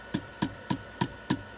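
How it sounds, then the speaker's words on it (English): Six light, evenly spaced taps of a hammer on a glass hook during glassworking, each a short sharp click with a ringing top, set close against a steady low hum. "I'm just gonna have to hammer on it very, very, very gently."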